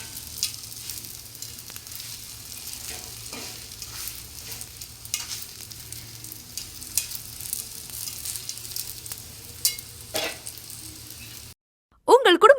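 Stuffed chicken pieces fry in oil in a pan with a soft steady sizzle and occasional stirring clatter, fairly quiet and close, before a voice briefly speaks at the end.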